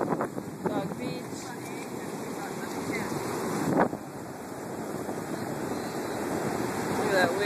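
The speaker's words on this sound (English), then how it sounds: "Look at that wave in the background." Large ocean surf, waves around ten feet, breaking at a dog beach on Coronado, California, heard as a continuous broad roar with wind buffeting the microphone and a swell building toward the middle.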